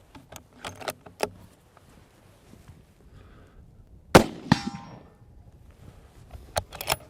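Stutzen rifle fired at a boar, one sharp loud gunshot with a quick echoing tail, set among scattered light clicks and handling noises before and after.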